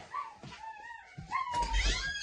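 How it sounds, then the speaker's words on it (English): A dog whimpers and yips in high, wavering whines, ending in a louder excited bark-like burst, fairly close in a room. "This dog is just fucking out of control."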